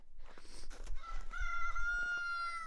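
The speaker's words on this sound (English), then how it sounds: "That's one of our one too many roosters." A rooster crows close by, one long drawn-out call rising and holding over rustling background noise.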